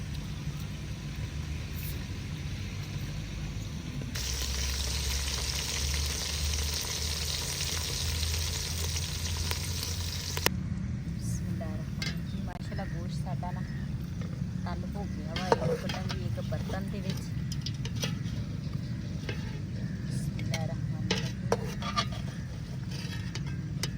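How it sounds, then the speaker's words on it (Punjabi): Meat frying in a pan on a new stove in a Pakistani village kitchen, a steady close sizzle that swells louder for several seconds, then continues with stirring scrapes and light clinks. "ਨਾਲ ਦੇ ਨਾਲ ਗੋਸ਼ਤ ਵੀ ਤਲ ਜਾਣਾ"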